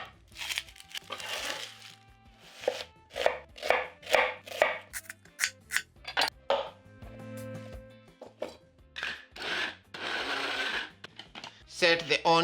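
Knife chopping through a peeled onion on a cutting board, a run of crisp, fairly loud rhythmic chops with crinkly peeling and tearing sounds between them, stopping and starting in short bursts.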